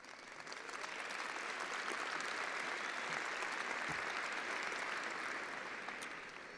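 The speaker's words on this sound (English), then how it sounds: "take a couple of seconds and applaud yourself for making it this far" Graduates and guests at a fall college graduation ceremony applaud, a dense wash of clapping that swells in, holds steady, and tapers off at the end, fairly distant and soft.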